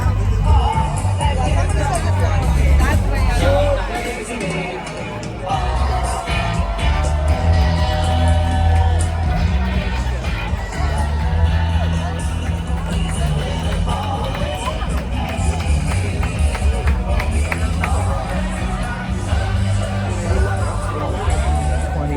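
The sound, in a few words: crowd of rally attendees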